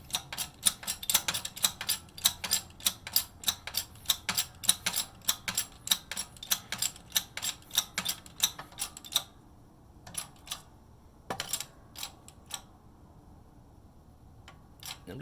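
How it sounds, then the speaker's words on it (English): Metal punch mechanism ticking and clicking as a punched Chuck E Cheese token is pushed free from a Legacy Brand MEGA Punch, with rapid close repeated clicks that thin out to a few sparse taps. "We're just going to push this part down to free the coin."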